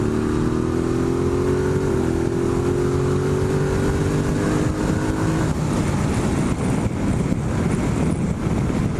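A Ducati Multistrada 1260S motorcycle accelerates hard in sport mode, its engine note rising steadily and loud under constant wind rush throughout.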